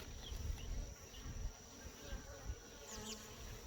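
Honey bees buzzing steadily around an open hive during a late-June inspection, a faint continuous drone close by with no one talking over it.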